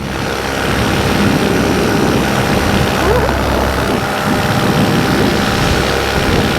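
Model aircraft engine running with a failing carburetor and fading power, a steady droning buzz throughout with a slight dip partway, heard outdoors at a flying field.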